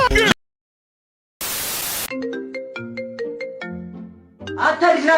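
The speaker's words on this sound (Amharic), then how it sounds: "አታዲስ ስልክ እየጠራ ነው" A mobile phone ringtone plays as a melodic electronic chime of repeating stepped notes, loud and close, following a burst of hiss and a brief silence, ending in a louder jumble of sound.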